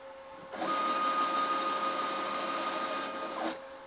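A CNC router machine cutting two tiles at once, a steady loud whirring drone that starts abruptly, holds for about three seconds, then cuts off.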